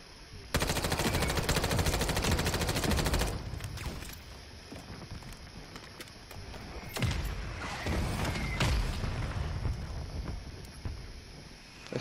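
Gunfire in Call of Duty Warzone: a dense, sustained burst of automatic fire up close, then sharper single reports and heavier booms amid chatter of distant shots, with wind-like background noise.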